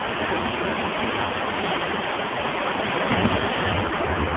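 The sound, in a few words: fast-flowing river at Crystal Peaks park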